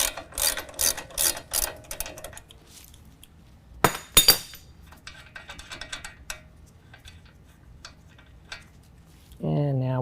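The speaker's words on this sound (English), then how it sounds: "go ahead and apply pressure down and then finish pulling this nut off" Nut worked off a GMC Sierra 1500 truck's suspension during a Fabtech coilover lift install: metallic clinks and ratcheting clicks, a few sharp knocks in the middle, close, ending in a steady tool whir.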